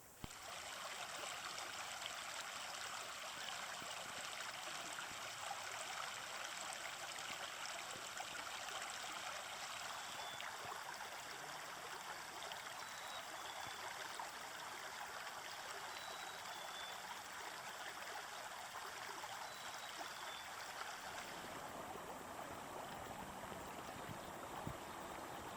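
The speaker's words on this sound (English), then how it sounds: "the pleasing sound of water passing over rocks" Water flows steadily over rocks in a creek, a continuous soft babbling and trickling with no voices, quiet and even throughout.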